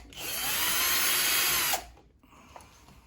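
A power drill drives screws while a WE.LOCK electronic lock is mounted on a door. One loud, sustained whir runs for under two seconds and then stops, followed by a few small clicks.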